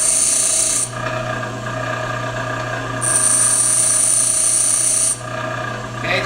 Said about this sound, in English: We're actually going to grind some, cool it down, grind some more.